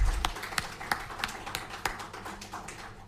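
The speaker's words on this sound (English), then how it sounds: "Shall we please give the committee another big round of applause?" A handful of scattered, separate hand claps ring out in a hall at a ceremony where a constitution review committee presents its report to Ghana's president, sparse rather than a full ovation.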